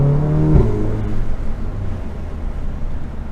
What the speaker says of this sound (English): hopefully you guys can hear just a little bit of that induction, just a little bit of that spool